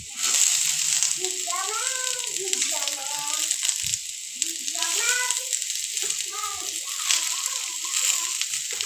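Chopped onion goes into a pan of frying potatoes. The pan gives off a continuous bright sizzle and hiss, heard under steady talking that runs through most of the stretch.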